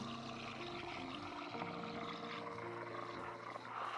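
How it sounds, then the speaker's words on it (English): The steam nozzle of a Smeg bean-to-cup coffee machine froths milk in a jug with a steady, faint hiss and gurgling roar that stays continuous throughout. "Immerse the nozzle in the milk slightly further down to ensure that the finer air bubbles form a smooth steamed milk."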